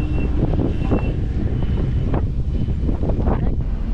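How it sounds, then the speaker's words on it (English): Steady gusty wind buffets the microphone outdoors at Starbase, Texas, the SpaceX Starship site, a continuous loud low rumble with brief louder gusts filling the whole stretch. "It's a little windy out."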